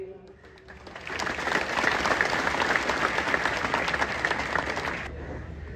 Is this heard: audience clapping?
yes